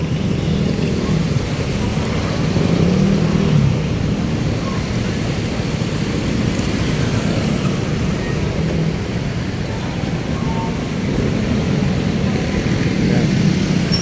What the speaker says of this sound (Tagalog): Traffic na yan mga kabayan.